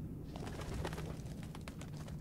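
Pigeons or doves cooing in the PC stealth game Thief, a soft, steady murmur of calls over a low ambient hum, with no speech.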